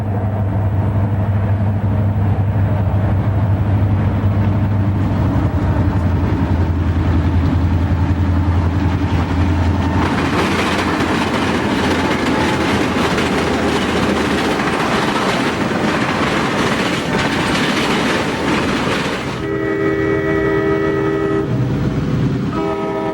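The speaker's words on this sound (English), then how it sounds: "Train CM1, Chicago to Memphis, next heads past the camera." An Illinois Central train rumbles past at close range, loud and continuous, wheels clattering steadily, ending with the sustained tones of a horn.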